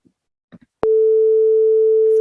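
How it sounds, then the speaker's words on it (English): After a few faint clicks, a steady pure electronic tone synthesized in JavaScript starts abruptly and holds unbroken, loud and clean, with no voices. "It's a sine wave, and that's a square wave."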